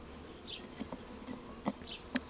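Honeybees from a Buckfast nucleus colony hum steadily around an open hive, with individual bees zipping close past in brief louder passes over the dense, continuous drone.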